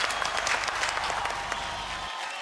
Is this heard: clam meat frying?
no